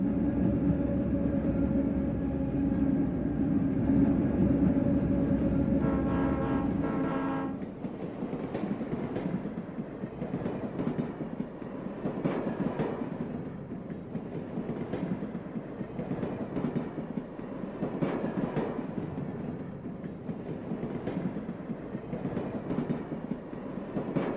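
Santa Fe Texas Chief passenger train passing in July 1970: a sustained low rumble with a horn-like tonal blast early on, then a steady rolling clatter of cars going by, loud and close, with no talk.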